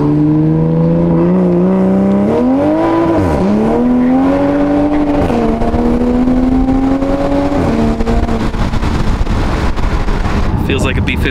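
Tuned Toyota Supra with a B58 engine, downpipe and tune, accelerating hard from inside the cabin: loud, continuous engine drone rising through the gears with shifts, people talking over it throughout.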